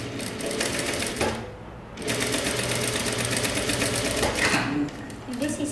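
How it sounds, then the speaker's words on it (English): A sewing machine stitches kimono jacket fabric from the inside in steady rapid runs, pausing briefly, with a voice talking faintly in the background. "you have to flip it over and sew from the inside"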